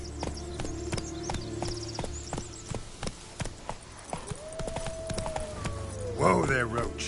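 Roach the horse clip-clops steadily through The Witcher 3, the hoofbeats coming as an even rhythm of sharp taps under a low ambient drone, with a horse snort and brief game sounds near the end.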